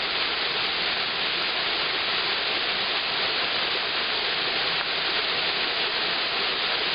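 A steady, dense roar of falling water from the Rusyliv waterfalls fills the whole stretch, constant and close with no pauses.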